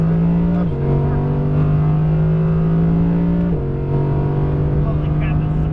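An Audi R8 V10 on a race track hot lap, loud close engine drone pulling hard under throttle, with two upshift dips where the pitch drops and then climbs steadily again.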